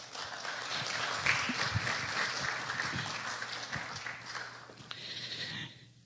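Church congregation applauding during a Spanish-language service, a sustained crowd clap that fades out and stops near the end, leaving quiet.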